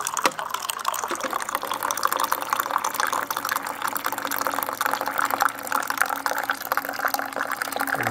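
A Keurig machine dispensing quick-brewed Turkish coffee into a cup, a continuous trickling pour of liquid filling the vessel, steady and close throughout.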